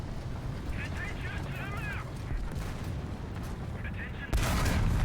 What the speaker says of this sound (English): I'm shooting you right there, so at least I hit your gun too.